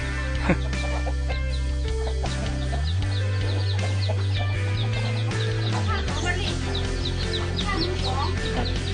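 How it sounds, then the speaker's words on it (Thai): Fighting cocks kept on a family farm cluck and murmur steadily at close range, with rhythmic low tones and scattered sharper calls amid a busy rural background. "พ่อผมก็เลี้ยงไก่ด้วยครับ ถ่ายไก่สักหน่อยนึง"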